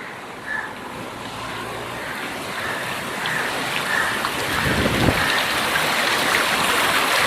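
Water flows steadily at Danga Bay in Johor Bahru at night, a constant broadband rush with a slight swell in the middle and no voices over it.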